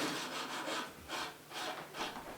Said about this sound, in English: The bow is given its final fine polish with fine ground sandpaper.